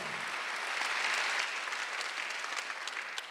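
A church congregation at a Sunday worship service bursts into steady, dense applause that fills the room evenly from start to finish, with no voices rising above the clapping.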